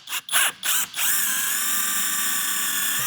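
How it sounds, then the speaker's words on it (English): A power drill bores out a grommet in a minivan, starting with a few short, loud bursts, then one steady high-pitched whine, close up. "Drilling out their grommet a little bit."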